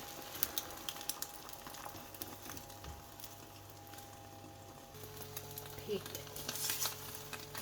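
Egg frying in a pan for a Mama noodle omelette, a quiet crackling sizzle with light stirring and scattered clicks, faint and close, with brief soft talk in the background.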